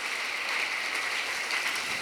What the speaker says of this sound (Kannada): ತಾವೆಲ್ಲರೂ ಚಪ್ಪಾಳೆ ನೀಡಿ ಅವರನ್ನು ಅಭಿನಂದಿಸಬೇಕಾಗಿ ಕೇಳ್ಕೊಳ್ತಾ ಇದ್ದೇನೆ